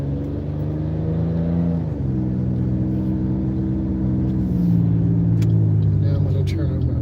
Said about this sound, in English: here I go, and then I accelerate through my turn